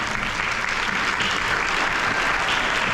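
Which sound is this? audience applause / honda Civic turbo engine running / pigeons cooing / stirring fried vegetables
audience applause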